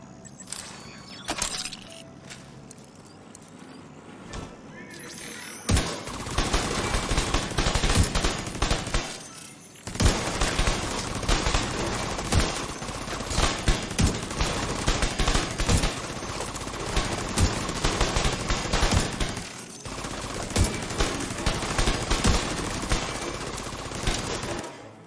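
An assault turret and drone firing together in The Division 2, a dense, continuous barrage of rapid gunfire with rattling metallic clatter, loud and sustained with a brief lull before resuming.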